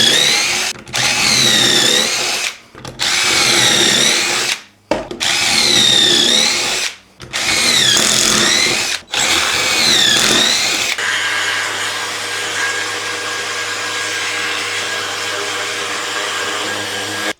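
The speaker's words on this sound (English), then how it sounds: "I'm gonna put some pocket holes in." A power drill bores pocket holes in wood for a dog feeder build. It runs in five loud, close whining bursts of about two seconds each, separated by short pauses, followed by a quieter steady background hum.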